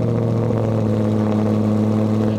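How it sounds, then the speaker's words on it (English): A car engine tuned by Lingenfelter, with Corsa Sport headers and exhaust, runs close by with a loud, steady, deep rumble and no voices over it. "Car sounds great, especially on that initial startup."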